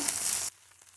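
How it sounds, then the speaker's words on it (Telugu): Dried prawn shells fry in a pan with a loud, bright sizzle for half a second, then drop abruptly to faint crackling. "ఇప్పుడు రొయ్య పట్టు వేసేసుకుందాం ఇవి బాగా ఫ్రై చేసుకోవాలి"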